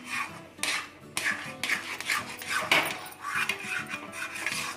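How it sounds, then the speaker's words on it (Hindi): Wheat flour halwa is being roasted and stirred in a kadai, with a spoon scraping and clanking against the metal in repeated bursts, close and moderately loud, and no one speaking. "इसे हम और अच्छे तरीके से थोड़ा सा भून लेते हैं। इसका पानी हम पूरा सुखा लेंगे बढ़िया से।"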